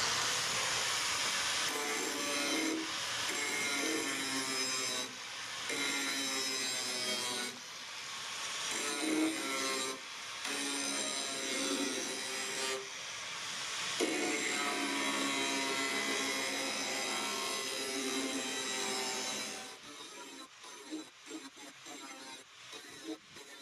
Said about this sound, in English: So I'll just grind this down just a little bit more and see how it goes.